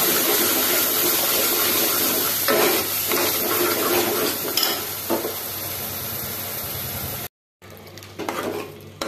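Ground masala paste frying with browned onions in a pan, a steady close sizzle with spatula stirring and scraping against the metal, continuing after a brief dropout near the end.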